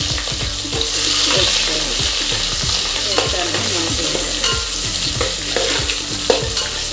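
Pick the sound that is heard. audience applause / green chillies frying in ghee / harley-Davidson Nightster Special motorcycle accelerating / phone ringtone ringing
green chillies frying in ghee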